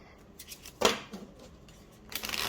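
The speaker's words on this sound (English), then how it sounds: "This shuffles like a dream." A Wild Unknown Animal Spirit Oracle card deck of sturdy cardstock is shuffled, giving quiet papery riffles: one sharp burst near the middle, softer flicks around it, and a longer rustling run at the end.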